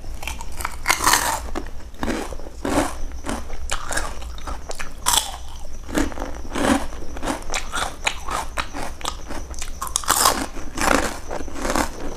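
Crunchy Thai pork crackling (khaep mu) eaten with nam phrik num chili dip, loud close crackling bites and chewing crunches that go on steadily with no talking.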